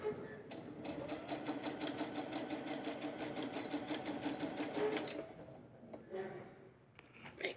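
A sewing machine runs steadily for about five seconds while stitching a charm square bag and reverses to back stitch, then gives a few short bursts; faint handling noises follow.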